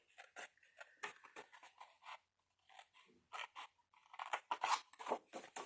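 Scissors snip through folded paper while a ribbon storage box is being made, a series of short crisp cuts in quick irregular bursts, close and fairly quiet.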